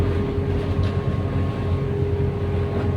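A passenger ship's engine idles in a steady low drone with a constant hum, loud and continuous, while docked at port before a trip to Mindoro.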